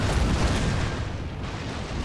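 Ships firing cannons in the video game Napoleon: Total War, a dense rumbling barrage of booms filling the whole short stretch, loud and continuous.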